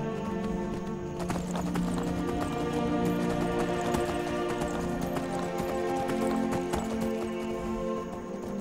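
Hooves clatter in a fast, steady galloping rhythm throughout, with a horse whinnying over a continuous bed of game sound from Skyrim.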